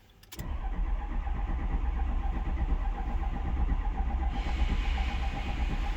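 A 6.0 diesel truck engine cranks and catches almost at once, then settles into a loud, steady, close running rumble with no pauses.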